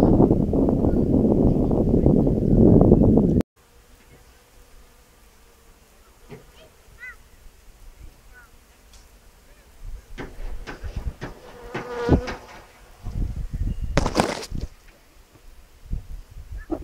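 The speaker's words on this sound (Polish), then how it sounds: "Słuchajcie, nade mną tutaj roje pszczół." Swarming bees buzz overhead outdoors: a faint, steady drone with some louder passes later on, after a loud rustling burst at the start.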